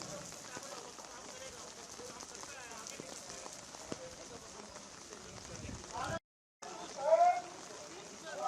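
Heavy rain falls steadily in Jammu, Jammu and Kashmir, a dense hiss with scattered drop patter that runs throughout, broken by a brief gap; voices seem to talk faintly underneath.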